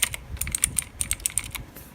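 Mechanical keyboard switches on an aluminum board clack in a quick irregular run of close, crisp keystrokes, with no talking.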